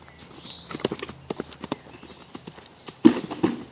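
Hooves of a horse trotting, producing a steady run of sharp clip-clop strikes, fairly close, with a louder pair of hits near the end and no talk over them.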